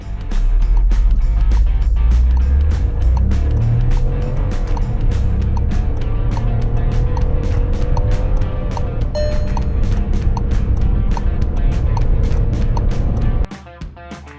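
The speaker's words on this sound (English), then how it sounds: "I am hearing a lot of engine noise" Cabin noise from a Skoda Kylaq 1-liter TSI automatic while driving: a loud, steady engine and road drone with faint ticking, cutting off abruptly near the end.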